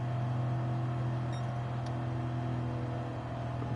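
A British Touring Car Championship race car engine in Gran Turismo 7 holds a steady, loud drone near idle with a low hum throughout, no clear rev spikes, and no talk.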